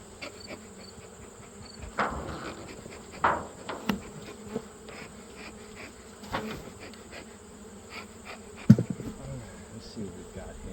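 Honey bees drone and buzz steadily around an open hive while it is checked in cool winter conditions, a continuous low hum with occasional louder passes near the microphone and a few faint knocks of hive tools.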